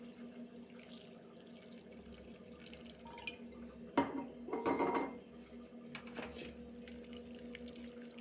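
Water is poured into a cooking pot and stirred, giving a faint splash and a brief clatter of a utensil against the pot in a quiet kitchen.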